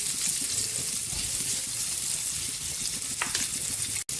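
Onion sizzling in a hot pan with garlic for Filipino ginisang mais, a steady dense frying hiss close up, with a brief clink near the end.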